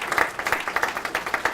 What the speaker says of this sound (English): let's give all the employees of Thomson Reuters a great round of applause